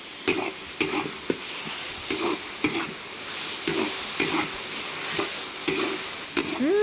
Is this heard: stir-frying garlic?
yes